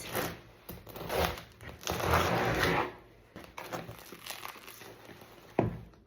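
A knife saws into a loaf of bread baked with Norwegian flour, producing close crackly crunches and rustling crumb sounds in uneven bursts, with quieter pauses between strokes.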